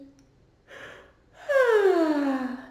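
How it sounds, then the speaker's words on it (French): A person yawns while stretching during a face yoga session, a soft breathy intake followed by a loud, drawn-out voiced yawn that slides downward in pitch, close and alone. "on va s'étirer vers le ciel en bâillant"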